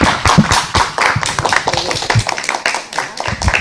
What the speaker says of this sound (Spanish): le pido un aplauso para Flavia